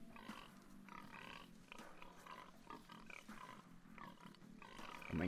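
Pigs oinking and grunting in the strategy game Age of Empires 2 Definitive Edition, a busy run of repeated snorts with one louder grunt at the end, heard over steady game background sound.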